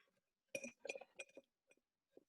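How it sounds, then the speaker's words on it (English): An object clinks against a drinking glass as it is balanced inside it, a series of sharp, faint tinkling taps spaced unevenly, alone in an otherwise quiet room. "Balancing this in a glass."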